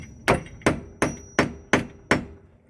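A small hammer taps a toggle bolt into a wall with six sharp, evenly spaced whacks, each close and loud with a short ringing decay.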